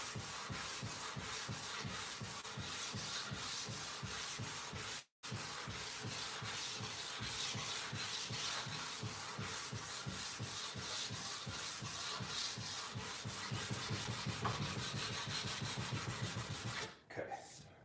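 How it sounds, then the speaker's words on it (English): Sandpaper of 220 grit rubbed back and forth along a new guitar neck, a steady rhythmic rasping scrub with brief pauses near five and seventeen seconds, close and continuous. "This is 220 grit sandpaper."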